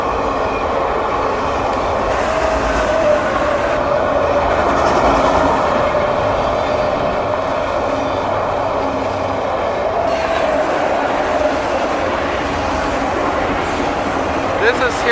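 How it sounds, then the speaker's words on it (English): A loaded CSX auto rack freight train rolls past close by, a continuous loud rumble with wheel squeal and rhythmic clickety-clack from the cars over the full length. "CSX load auto rack train."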